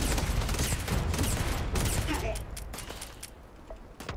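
Bursts of gunfire from a player in the Starfield video game, loud and rapid at first, then thinning into scattered shots as the noise drops away.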